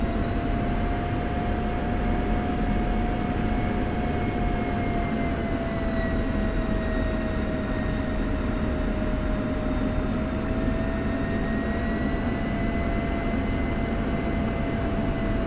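F-16 fighter jet engine idling while taxiing, heard from inside the cockpit as a loud, steady roar with sustained high whining tones that drift slowly in pitch, continuous and unbroken throughout.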